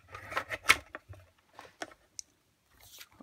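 Scissors snip through cardstock at a crafting table: a quick run of crisp, close cuts early on, then a few isolated snips with short pauses between, fairly quiet overall.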